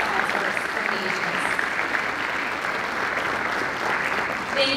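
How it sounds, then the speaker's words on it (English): A room full of guests applauds at an anniversary celebration, with sustained, even clapping that carries faint crowd murmur and scattered voices beneath it. "please join me giving them a huge round of applause to all of these years"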